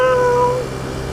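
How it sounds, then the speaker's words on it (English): A single cat meows loudly and close by, one drawn-out tonal cry that fades after about half a second into low background hum. "wow, and we heard this cat"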